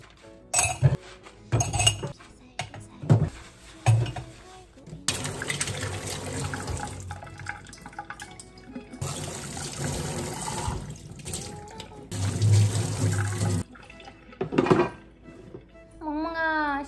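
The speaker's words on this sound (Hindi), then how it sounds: "नाश्ता हो चुका है लेकिन ये जो बर्तन है ना उनको साफ करने पड़ेंगे। सो लेट्स क्लीन दिस बर्तन।" Breakfast dishes being washed at a kitchen sink: running tap water in long bursts, glasses and plates clinking and knocking, close and fairly loud, with brief voices in between.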